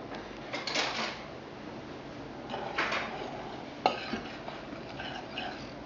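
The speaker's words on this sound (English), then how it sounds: "just give them a stir" Whoopie pie ingredients are stirred in a bowl, with soft intermittent scraping and clinking of a utensil against the bowl, fairly close and quiet with no talking.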